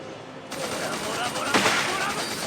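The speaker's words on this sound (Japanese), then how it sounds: "背後から、射撃。" Gunfire from behind in the JoJo Last Survivor battle royale game, a dense continuous burst of shots with one sharper crack midway, steady and fairly loud throughout the clip.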